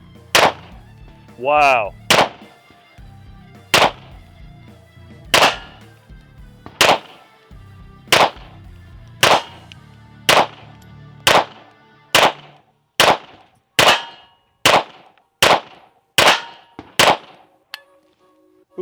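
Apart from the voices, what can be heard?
Laugo Alien pistol gunshots at target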